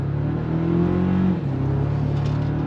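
A 2024 Toyota Tacoma TRD Pre Runner with an 8-speed gearbox accelerating on throttle: a steady engine hum climbs in pitch, drops with a gear shift, then pulls on again. It is heard from inside the cabin, with no talking.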